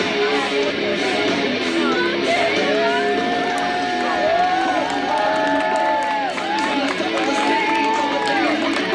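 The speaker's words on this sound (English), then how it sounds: "the crowd applauding her, cheering her, showing her support as she gets ready to step through those ropes" A fairground crowd at a Versailles, Missouri county fair wrestling show cheers and applauds a woman wrestler's ring entrance, a steady loud roar under continuous ring announcer talk and music.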